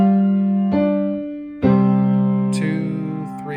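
Piano notes from Jingle Bells ring out alone, a few sustained chords struck one after another and left to decay, with lighter higher notes entering near the end.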